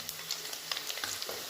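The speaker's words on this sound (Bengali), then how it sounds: "পনিরগুলো ভাজা হয়ে গেছে" Paneer cubes frying in hot oil for a Bengali palak paneer give a steady, fairly soft sizzle, with light clicks and scrapes of stirring scattered through it and no voices.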